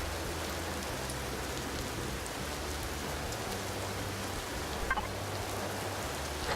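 Steady rain pours across an outdoor scene in the survival game Empyrion, a continuous dense hiss with a brief louder patter near the end and no speech.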